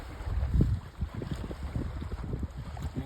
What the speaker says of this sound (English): got a hard wind off our starboard side